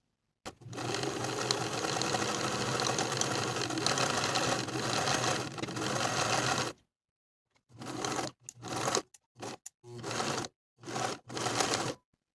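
Sewing machine top stitching a knit cardigan seam at regular stitch length: one long steady whirring run, then several short stop-start bursts with gaps of silence, close and clear, no talking.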